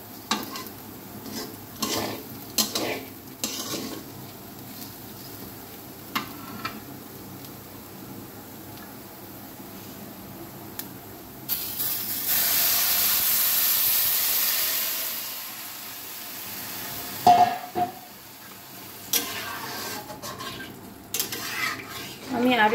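Lentils (dal) frying in a pan, a steady quiet sizzle under frequent scraping and clinking of a spatula against the pan, with a louder steamy hiss rising for a few seconds midway, close and unaccompanied by talk.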